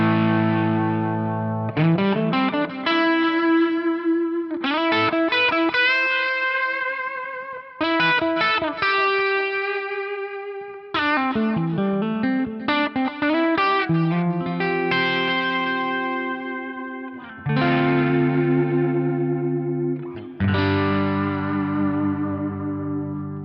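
Distorted electric guitar played through a Line 6 POD Go with stereo delay and reverb swelled by an expression pedal; loud strummed chords and phrases ring out with echoing repeats and lush tails between short pauses.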